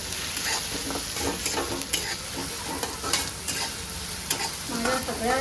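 Two finely chopped onions frying in a pan until pink, with a steady sizzle and frequent scraping clicks of a spatula stirring, close and moderately loud, with no voices.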